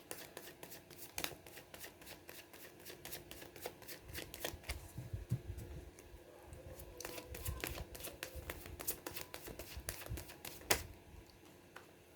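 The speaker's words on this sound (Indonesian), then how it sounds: "Kita kocok kartu dulu" Tarot cards being shuffled by hand, close and crisp, with repeated riffling bursts and soft slaps of the deck, steady and unhurried with brief pauses between passes.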